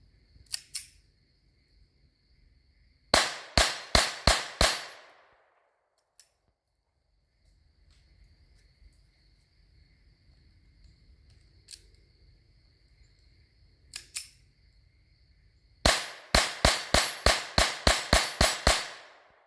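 CCI Velocitor .22 LR rounds fired to empty a magazine: sharp, close cracks come in rapid bursts of several shots, separated by quiet pauses with one or two isolated shots between.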